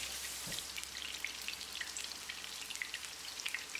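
Prawn vada frying in oil over a low flame, a soft, continuous crackle of small pops and spits, fairly faint and close, with no voices.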